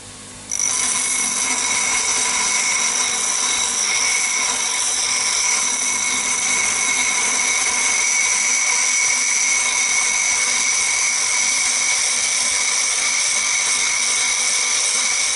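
A bench grinder grinding a flat chisel, starting with a quick spin-up and then a steady, loud whine with a sustained hiss of metal against the wheel, close and uninterrupted without speech.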